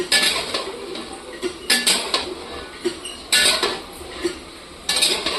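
Metal pots, pans and utensils clinking and clattering in a home kitchen while vegetables cook after the khichuri, in a string of sharp, close bright knocks and scrapes spread irregularly through the clip over a soft background hiss, with no talking.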